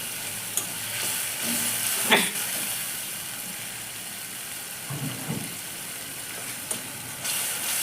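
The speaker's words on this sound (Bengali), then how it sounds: "দিয়ে এবার আমি মশলাটাকে সুন্দর করে কষে নেব।" A spice paste of ground black cumin, green chili, chili powder and turmeric frying in oil for a traditional Bengali fish curry, with a steady soft sizzle broken by a few louder stirring scrapes.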